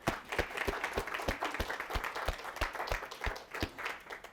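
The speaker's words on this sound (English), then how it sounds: "Give yourselves a round of applause, come on." Students at a school awards assembly clap in a sparse, fairly distinct rhythm, individual claps standing out in an even, moderately quiet round of applause.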